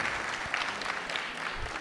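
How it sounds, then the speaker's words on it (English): A brief burst of continuous applause from listeners at the JL Dube Lecture, many hands clapping together in a steady, moderately quiet patter. "Let me just give him another round of applause."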